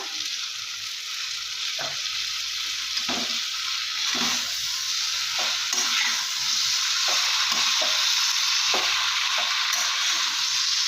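Pumpkin greens with softened eggplant sizzle steadily in a hot pan, with a continuous bright frying hiss broken by repeated scraping and stirring knocks from a spatula.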